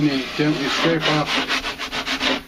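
A 12-inch drywall knife scrapes over a patched, damaged drywall repair, knocking off high spots in a series of close, rhythmic rasping strokes that grow more regular toward the end, with no talk.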